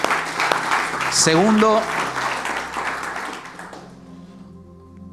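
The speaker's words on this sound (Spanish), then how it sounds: "Dale un fuerte aplauso al Señor." A church congregation applauds during a Sunday service, a broad wash of clapping that peaks early, then thins and trails off, with a voice speaking briefly over it and a sustained tone lingering at the end.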